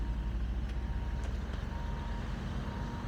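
A gravel dump truck reverses with a steady low diesel rumble, faint reversing beeps sounding intermittently over the engine.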